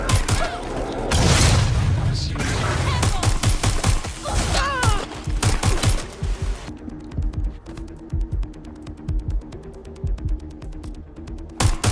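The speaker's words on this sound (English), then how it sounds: "Shots fired!" Heavy game gunfire and booming blasts in Watch Dogs: Legion, dense rapid shots and explosions up front, then a steady stream of quieter automatic fire, with shouted voices mixed in.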